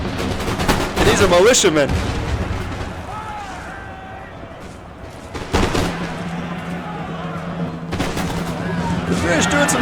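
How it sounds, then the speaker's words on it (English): Musket volleys in Empire Total War: ragged bursts of massed gunfire crack out near the start, around the middle and again toward the end, over a busy battlefield din, with someone talking between the shots. "I'm gonna fire a volley right into those British."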